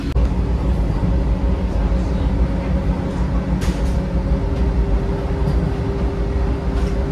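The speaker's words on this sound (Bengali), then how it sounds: "এখন আমাদের ট্রেন স্কিপ করছে সাঁইথিয়া জংশন" A Vande Bharat Express rumbles steadily through Sainthia Junction, heard from inside the carriage as a continuous low roar with rattling and a faint sustained tone.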